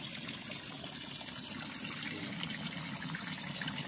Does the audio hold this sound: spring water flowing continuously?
yes